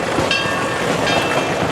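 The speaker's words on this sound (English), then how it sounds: "good to see the train running today because it didn't seem to be yesterday" A theme park train runs through the Far West area of PortAventura, giving a close, steady rolling rumble with faint metallic squeal and clatter, with no voices.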